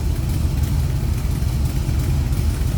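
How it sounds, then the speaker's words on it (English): A 1975 Chevrolet Corvette coupe with a small-block 350 cubic inch V8 idles through baffled side pipes, a loud, steady low exhaust rumble heard close up, with no talking. "those side pipes are baffled on the inner part of that, so it's not just a straight pipe and crazy exhaust sound"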